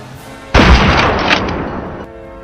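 A hunting rifle fires at wild boars, a single loud, close blast that booms and rings for about a second and a half before fading.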